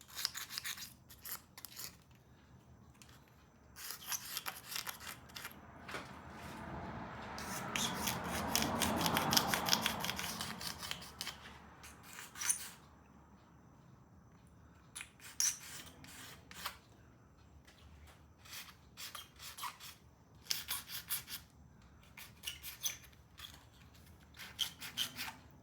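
A razor blade scrapes on a 1967 Triumph TR6 in close, quiet bursts of short strokes, with one longer smeared pass partway through and pauses between the groups.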